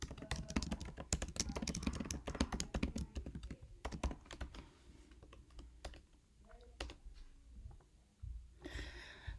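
Rapid, uneven keystrokes on a computer keyboard as a title is typed into a library search bar, dense bursts of clicking with short pauses, close and fairly quiet, no talking.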